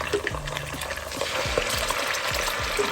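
Ginger garlic paste frying with browned onions in a pan for vegetable biryani, a steady close sizzle broken by repeated scraping stirs throughout, no voices.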